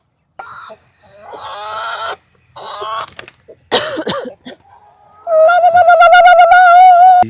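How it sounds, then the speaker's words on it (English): Chickens cluck and a rooster crows on an Arizona farm with 150 birds. Scattered clucks and short calls come first, then a long, loud, deep and low crow ends the sequence. "The rooster's crow is really deep and low."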